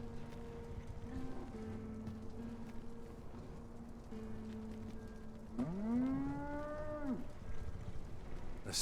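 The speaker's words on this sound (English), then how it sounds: "the ox moo in the background" A long, low moo from an ox in the video game Dragon's Dogma 2 sounds once over a steady background hum, rising and then falling off after a couple of seconds.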